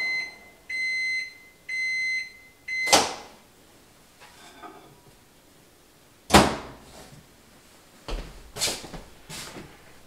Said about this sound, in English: I'm going to heat it up in the microwave.